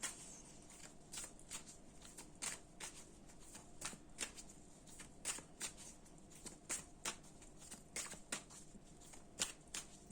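Tarot cards being shuffled in a quiet room, a steady run of crisp riffling snaps and soft slides repeating close by with no talking.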